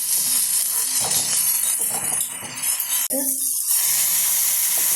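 Salt water splashes into a pan of frying onions for an ivy gourd roast, a loud broadband sizzle and watery rush that cuts off sharply midway, leaving a softer hiss and low clatter.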